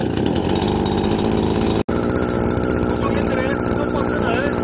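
A Husqvarna 555RXT brush cutter's two-stroke engine runs loud and steady close by, with one abrupt dropout to near silence partway through before the harsh buzzing resumes.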